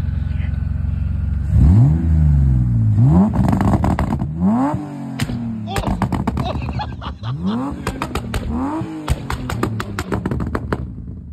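A Fiat Multipla converted to turbo with an anti-lag system and single-mass flywheel revs hard in repeated rising and falling sweeps, punctuated by sharp pops and bangs from the anti-lag, loud and close throughout.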